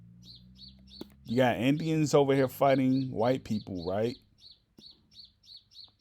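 Small birds chirp in short repeated bursts in the background, faint but steady, continuing under a man's loud speech and more clearly in the pauses after it.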